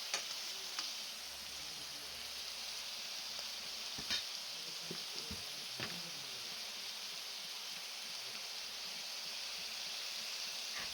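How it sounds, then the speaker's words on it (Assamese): Pieces of pork fry in oil with spices, giving a constant soft sizzle. A few brief scrapes and taps from stirring break through it, and no voices are heard. "মাংসখিনি 2-5 মিনিটমান তেলত ভাজি লোৱাৰ পিছত"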